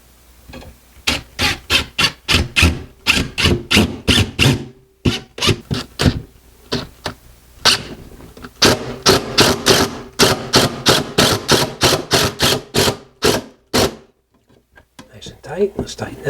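A floating shelf bracket being screwed tight against a wall, with rapid bursts of a power driver whirring and ratcheting in short repeated runs, close and loud, pausing between screws.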